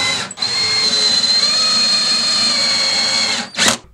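A drill drives screws into a wooden divider mounted to a stud, one sustained whirring run of about three seconds between short gaps, close and steady with no talk.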